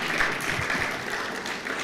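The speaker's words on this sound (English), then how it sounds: "I was expecting to hear you clap." An audience at a conference on women-led business claps briefly, with a dense but fairly soft patter of hands lasting under two seconds and no talk.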